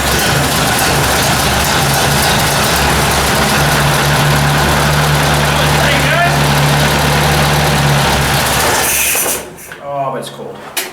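A cold Ford 800 tractor engine runs loud and close in a steady, rumbling idle, then cuts out abruptly near the end, leaving a brief sputter and quieter background.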